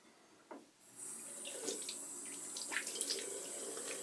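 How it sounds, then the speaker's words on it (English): A bathroom tap turned on to rinse alum off a freshly shaved face, a close, steady hiss of running water with scattered splashes as hands move through the stream. "Right, rinse the alum off."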